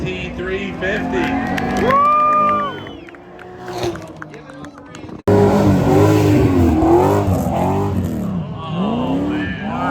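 A Ford Mustang GT350 revs and launches at a drag strip spectator event, engine notes rising and falling through repeated loud sweeps, with a crowd cheering and voices throughout.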